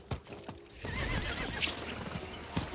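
In the Diablo IV video game, a horse whinnies loudly and clear hoofbeats clip-clop beneath it, close and continuous with a few sharp knocks, and nobody speaks.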